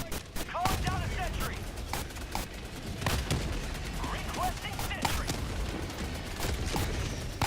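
Sentry guns in Helldivers 2 open up in rapid, repeated bursts of sharp gunfire mixed with heavier booms, a dense close barrage with voices talking over it.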